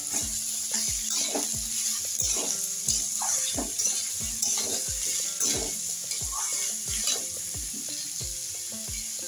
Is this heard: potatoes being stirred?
yes